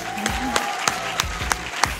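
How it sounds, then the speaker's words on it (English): A film festival audience claps for the filmmaker and actors of a crime comedy. Distinct, fairly close claps sound at a regular pace over a soft crowd background, with a faint tonal hum. "Ladies and gentlemen, a big round of applause for John Michael McDonagh and Mr. Brendan Gleeson, and Mr. Don Cheadle"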